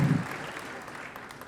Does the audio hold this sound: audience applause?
yes